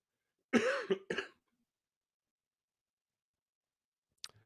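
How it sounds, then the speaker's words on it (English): Two sharp coughs in quick succession, close and loud, followed by silence and a brief faint click near the end. "Sorry for the cough too."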